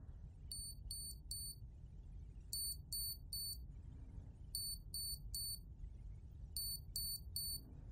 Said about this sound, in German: Habt ihr diesen Piepston gehört?